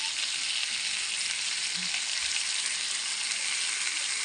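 Ginger garlic paste fries in a pan as the base for a fish curry, giving a loud, steady, close hiss of sizzling oil that runs unbroken throughout with no talking.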